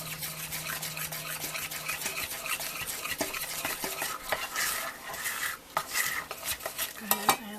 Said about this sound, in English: just keep stirring until we get a smooth consistency